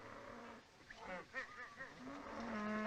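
Cattle mooing in a 1936 Western film, a few low lowing calls from the herd amid outdoor ambience, with some overlapping animal noises and a sustained low moo toward the end.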